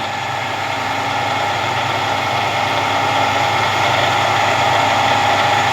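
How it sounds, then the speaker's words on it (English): A Harrison M300 metal lathe runs steadily at its slowest speed of 40 RPM, giving a constant mechanical hum and whir that stays level and close throughout with no talking. "And now I've got the lathe set up in the slowest speed, which is 40 RPM"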